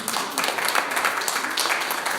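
A church congregation claps together in a dense, steady round of applause filling a reverberant hall.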